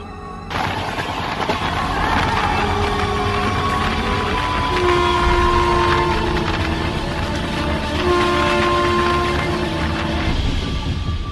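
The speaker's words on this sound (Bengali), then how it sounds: "সামনে দেখে ট্রেন দাঁড়িয়ে আছে" A cartoon train at a station rumbles loudly and steadily, its horn sounding in sustained tones over the continuous clatter for about eleven seconds.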